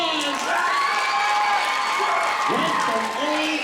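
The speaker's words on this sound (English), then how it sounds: "give a round of applause" Audience at a school Black History program clapping and cheering, with loud shouted voices and whoops riding over the applause throughout.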